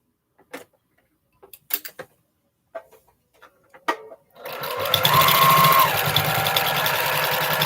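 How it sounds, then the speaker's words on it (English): Light clicks and handling taps come first, then a sewing machine chain-pieces quilt star blocks in a steady, close, continuous mechanical whirr that runs for about three seconds to the end, without talk. "I will be using Tiffany's Quilting Life method of chain piecing"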